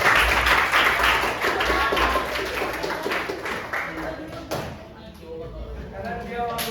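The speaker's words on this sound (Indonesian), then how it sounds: "Ya boleh deh kasih tepuk tangan dulu lah." Junior high school class applauds after a group music performance, with scattered clapping, loud chatter and voices throughout the room, and a brief knock or slam near the middle.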